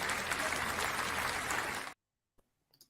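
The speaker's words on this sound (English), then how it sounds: "I'm just gonna clap it up again for you." A burst of dense clapping from a live-stream host, steady and close for about two seconds, then cut off abruptly into near silence with a couple of faint clicks.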